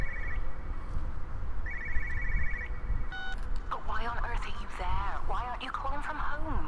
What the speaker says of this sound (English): I hear the phone.